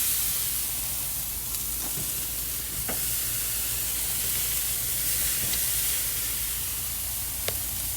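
Pork chops and steak sizzle steadily on a grill, a constant close hiss of frying fat with a few faint clicks and pops, no voices.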